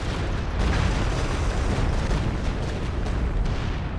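An artillery barrage in the wartime strategy game Company of Heroes 2 sends out dense rumbling explosions, overlapping booms and bursts that build a continuous heavy roar across the whole span, with no talk on top.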